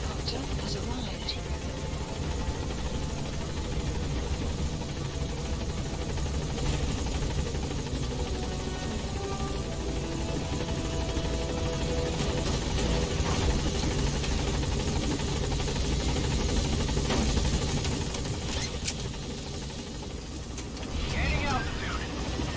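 The support helicopter in Metal Gear Solid 5: The Phantom Pain hovers with a continuous rotor thump and engine roar, steady and fairly loud throughout, as in-game radio voices speak over it.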